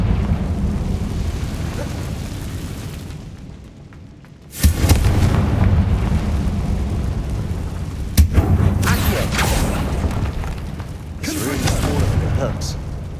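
Confringo fire-spell blasts in Hogwarts Legacy on PS5, loud booming explosions bursting at intervals with rumbling tails, over dense continuous game sound and speech.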